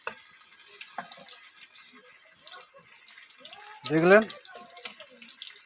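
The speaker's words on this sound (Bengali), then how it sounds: "রসুনটা আমি হালকা লাল লাল করে ভেজে নেব" Crushed garlic frying in ghee over low heat gives a soft, steady sizzle with a louder crackling swell partway through, while a person speaks quietly over it.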